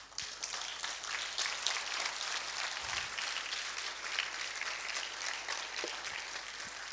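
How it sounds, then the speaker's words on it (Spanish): A church congregation claps during a Spanish-language sermon on fear and anxiety, a soft, continuous patter of many hands heard from a distance for several seconds with no voices over it. "¿Cuántos le dan palmas al Señor por eso?"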